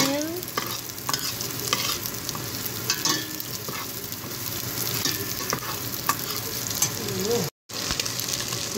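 Onions being stirred as they fry in a pot for chicken soup, a steady close sizzle broken by repeated scraping strokes of the spoon throughout, with no talking.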